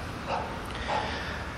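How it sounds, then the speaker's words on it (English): Guard dogs bark at an abandoned mansion, two distant barks about half a second apart, faint against a steady outdoor background hiss. "It sounds to me like there are dogs guarding the building now. I hear them barking."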